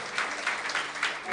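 A church congregation claps together during a sermon. The clapping is dense and steady, close and moderately loud, with a rhythmic pulse, and voices can be heard among the claps.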